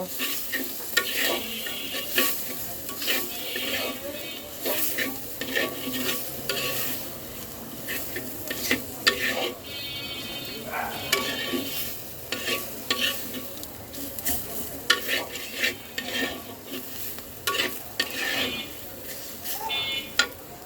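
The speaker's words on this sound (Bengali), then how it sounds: "সব কিছু একসাথে সুন্দর করে ভেজে নেব" Ground turmeric, cumin and coriander powders frying together in a pan while being stirred for a Bengali taro-leaf dish, with a steady sizzle and frequent scraping clicks of the spoon throughout.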